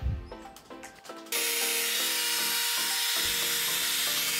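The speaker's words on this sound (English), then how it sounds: "I'm locating the hairs that dried up on the resin and sanding them out." A few scraping rubs give way to a steady high-pitched whir of a power sander on cured epoxy resin, running continuously up close, loud and even.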